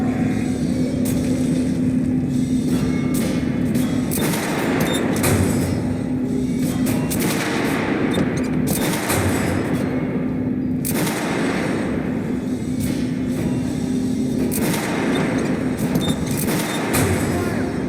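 Gunfire in the shooter game Metro: Last Light, loud bursts of shots and booms repeating in clusters over a constant humming background, with shouted voices between volleys.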